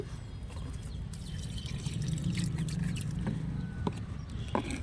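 Water poured from a container onto potted plants, a soft continuous trickle with faint drips and small clicks, fairly quiet and close.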